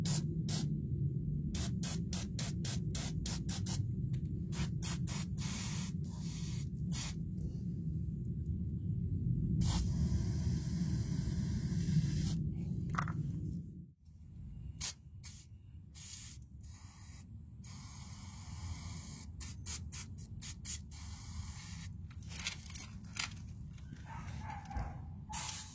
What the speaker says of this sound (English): you just want to hit these two locking bolts with some kind of lubricant before you try to take them off